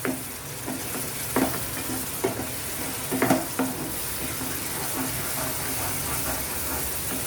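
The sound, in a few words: tomatoes cooking in a pan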